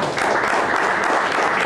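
Audience applause fills a Cañeros del Este press conference, a loud, dense burst of steady clapping that runs without a break through the short stretch.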